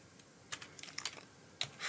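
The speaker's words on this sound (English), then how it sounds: "I'll just type it out." C++ code is typed on a computer keyboard in short bursts of close, crisp key clicks with brief pauses between, ending in a slightly louder flurry.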